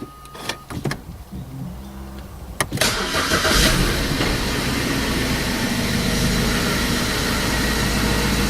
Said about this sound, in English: You have to run the car a little bit.